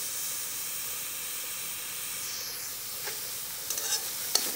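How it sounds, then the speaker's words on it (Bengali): Onions frying in a pan for a greens and dried small-fish dish, a steady close sizzle and hiss running throughout, with a few light stirring scrapes toward the end. "পেঁয়াজটা হালকা করে ভেজে নিচ্ছি"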